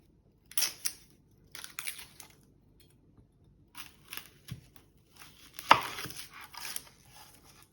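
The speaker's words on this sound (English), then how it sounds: "first thing you want to do is slice off the tip and then cut your onion in half" Knife cutting a whole onion on a cutting board, a few separate crisp slicing crunches and taps spaced out over quiet gaps, close and fairly soft.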